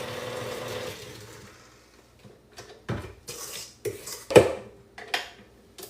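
A paddle scraping against a mixing bowl while crumb cake batter is mixed: a low mixer drone fades out, followed by several distinct metallic scrapes and clanks at irregular intervals, close and fairly loud.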